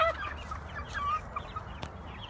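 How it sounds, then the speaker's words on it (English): A rooster clucks in short, scattered bursts nearby, with a brief sharp knock partway through and low background rumble. "It's a rooster."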